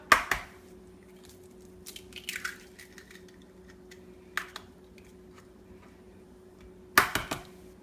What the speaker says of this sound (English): I'll be cracking 2 eggs in this same cup.